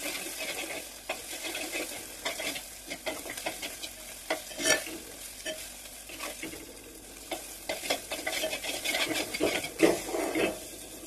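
Brinjal chutney frying in a hot pan, a soft continuous sizzle under repeated scraping and clinking stirs of a spoon against the pan, irregular and close, growing busier toward the end, with no talking.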